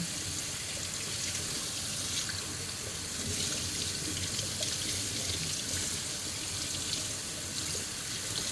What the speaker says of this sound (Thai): เปิดน้ำไหลทานเลยพี่น้อง